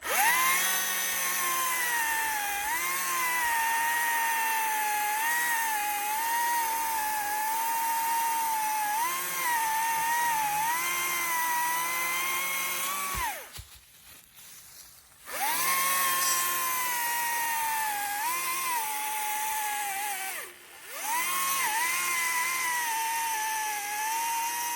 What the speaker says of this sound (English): Sometimes things, you just let the saw do the work and don't try to force it through there.